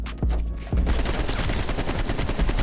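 Shotgun blasts in Black Ops Cold War, two heavy booming shots close together, then a dense rumble of continuing gunfire and battle noise, with no talk.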